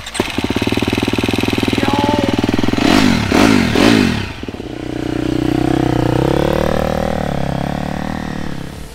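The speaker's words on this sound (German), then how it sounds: "Dein erstes eigenes Motorrad." A motorcycle engine, a first motorbike for a young brother, starts up and runs loud and close with a steady throbbing idle, then gives a few quick revs before settling back to a rougher running note.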